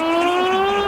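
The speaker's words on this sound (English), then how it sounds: "That's the garage door opener." A garage door opener sound effect from a 1977 radio play: a steady, loud electronic tone with stacked harmonics, holding a sustained whine at one pitch throughout, with no talk.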